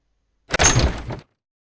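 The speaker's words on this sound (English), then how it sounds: "I swung open the door of the camp" A cabin door at the camp leader's quarters swings open in the video game Everlasting Summer, one quick close thud and rattle of wood lasting under a second, alone with no talking.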